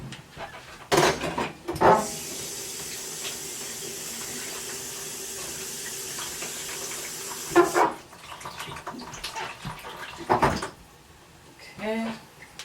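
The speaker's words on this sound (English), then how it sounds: "Let me rinse this spoon off" A spoon rinsed under a running kitchen tap while cooking a one-pan stuffed chicken, a steady stream of water for several seconds framed by clinks and knocks at the sink.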